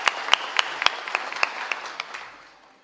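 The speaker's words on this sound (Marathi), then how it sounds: "म्हणून एकदा शिंदे साहेबासाठी टाळ्या वाजवा" An audience at a kirtan applauds for Shinde saheb, with brief sharp claps over dense clapping that fades out within a few seconds.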